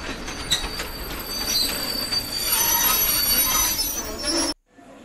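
A train rolling along the rails with high metallic wheel squeals over a steady rumble, cutting off abruptly near the end.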